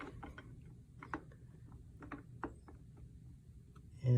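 Castle nut wrench tightening the castle nut on a Pepperball VKS launcher, giving a few faint, close mechanical clicks and ratcheting ticks spaced irregularly over a quiet background, ending with a brief louder knock.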